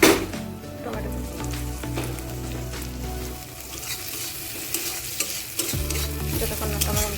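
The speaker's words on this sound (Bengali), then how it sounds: "যতক্ষণ না টমেটোটা সেদ্ধ হচ্ছে ততক্ষণ এইভাবে নাড়তে থাকবো" Chopped tomatoes fry in a spice masala for a chana dal vegetable dish while a spoon scrapes and stirs the pan. The sizzle runs steady and close, with a low hum from the stove underneath and no speech.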